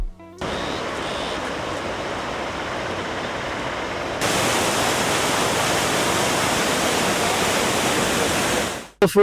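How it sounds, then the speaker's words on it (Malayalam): Attukad waterfall in Munnar during the rainy season roars as heavy water crashes down over rocks, a dense, loud, continuous rush that swells louder partway through and cuts off abruptly at the end. "പാറക്കെട്ടുകളിലൂടെ കുതിച്ചുചാടി താഴേക്ക് പതിക്കുന്ന വെള്ളം"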